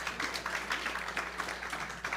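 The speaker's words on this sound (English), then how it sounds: "Can we please have a round of applause for my three wonderful panelists?" Faint, distant audience applause for three panelists at a leadership event, a soft steady patter of many hands heard from afar for about two seconds.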